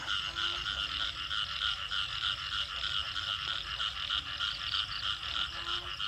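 Frogs and toads croak in a dense, continuous chorus across a rice field after rain, with a steady pulsing wall of calls and occasional lower, nearer croaks standing out.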